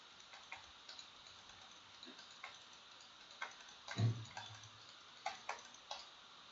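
Computer mouse clicks and keyboard Enter presses while drafting in AutoCAD, sparse sharp ticks spaced irregularly, with one heavier thump in the middle, fairly quiet against a low room hiss.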